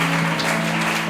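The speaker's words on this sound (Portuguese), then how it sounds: "Aplauda o nome do Senhor Jesus com alegria na alma." A church congregation claps during a Sunday service, a short burst of rhythmic applause over a steady sustained hum from the sound system, lasting about a second.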